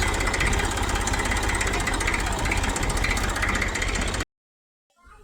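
A tractor engine idles with a steady, close, low rumbling drone for about four seconds, then cuts abruptly to silence.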